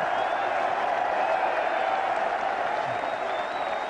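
Cricket crowd at a 1991 England versus West Indies Test applauding a four, a steady broad wash of clapping and cheering that holds at full strength throughout.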